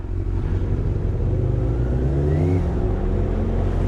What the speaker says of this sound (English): honestly, this is a peppy little bike